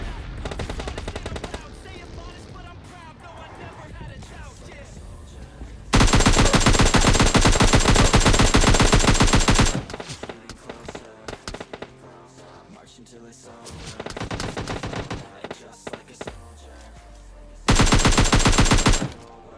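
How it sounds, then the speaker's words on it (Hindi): Shotgun blasts in PUBG Mobile Lite gameplay come as loud, harsh bursts amid dense, continuous in-game gunfire and clatter, with sustained loud stretches between choppier passages. "फिर से यहाँ पर शॉटगन के चलने की आवाज़ आती है"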